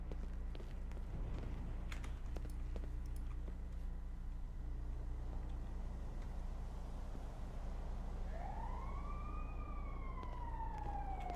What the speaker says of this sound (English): Now we hear sirens long after, yeah.